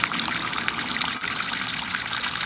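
A garden hose pours a steady, continuous flow of water through a fine gold recovery bowl, washing black sand along. A close, even gushing rush runs unbroken throughout with no talking.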